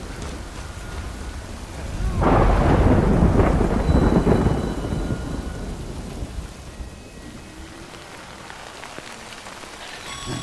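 Heavy rainfall in the Death Stranding game world with a loud rolling thunder crash that swells early, then fades back into steady patter of rain on surfaces.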